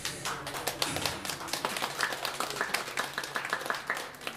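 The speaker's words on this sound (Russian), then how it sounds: "спасибо огромное за аплодисменты" Audience clapping at a concert, a soft, fairly sparse patter of hand claps with distinct individual claps, heard at a distance and fairly faint.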